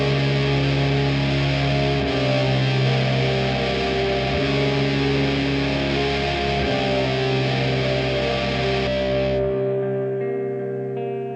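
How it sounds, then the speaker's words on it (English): Heavily distorted, fuzzy music plays loudly with dense sustained tones, then thins out and fades near the end. "Distortion."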